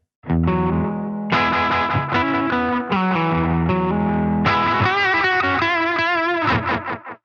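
Electric guitar through a NUX Atlantic delay effect feeding reverb, a series of loud distorted chords and a warbling lead line with echoing repeats trailing off at the end, no talk.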